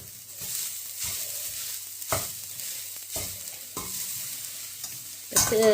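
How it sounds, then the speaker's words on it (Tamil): Grated coconut is dry-roasted in a pan and stirred, a steady soft sizzle punctuated by regular scraping strokes of a spatula roughly every second, with a sharper clatter at the end. "தேங்காய் பூ நல்லா வறுபட்டதுக்கு பிறகு காட்டுறேன்."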